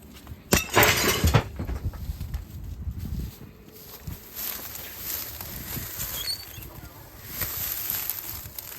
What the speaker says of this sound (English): But I might break through this window to see if I could grab something on the inside.